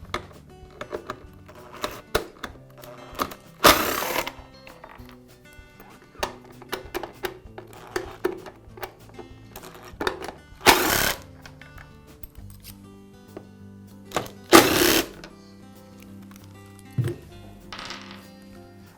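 Screws are backed out of the two-piece motor housing of a Porter Cable air compressor, with scattered small clicks, scrapes and ticks of tool on metal and a few sharper bursts of rattling, all close by without talk.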